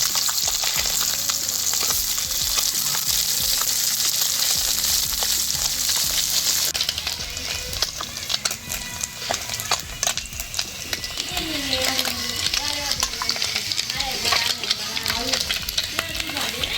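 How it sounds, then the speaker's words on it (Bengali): Small fish sizzle and crackle in hot oil in a wok, a steady, loud frying hiss that runs throughout with occasional stirring, while a voice talks over it. "এবারে মাছগুলো তেলের মধ্যে দিয়ে দিচ্ছি ভাজার জন্য"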